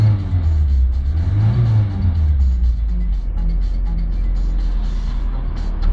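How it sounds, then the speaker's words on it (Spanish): Car engine revving as the accelerator is pressed, a loud close rise in pitch, a peak and a fall back to a steady idle rumble. "Si veis, si acelero"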